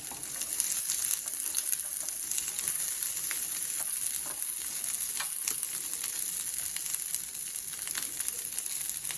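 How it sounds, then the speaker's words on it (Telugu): Sweet corn frying in butter in a pan for a mixed veg and paneer salad, a steady hissing sizzle that holds even and close for the whole stretch with no voices. "ఇప్పుడు ఇదే ప్యాన్లో స్వీట్ కార్న్ కొంచెం ఫ్రై చేసుకుందాం."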